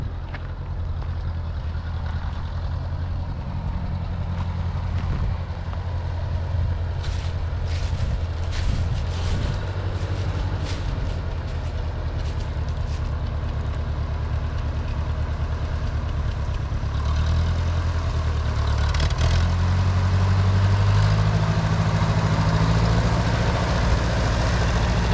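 A 1951 Harry Ferguson TO-30 tractor idles outdoors at sunset after a clutch swap, its engine a low steady chug with even rhythm, swelling slightly louder in the later seconds, with no voices.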